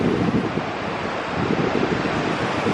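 A chilly westerly wind blows straight in off the ocean, a loud, continuous rushing roar with gusty buffeting on the microphone and faint surf mixed underneath.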